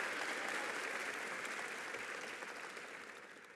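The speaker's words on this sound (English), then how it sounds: "they deserve a round of applause as well" Sustained applause from an audience at a governor's public service ceremony, dense and steady clapping that gradually tapers off over a few seconds.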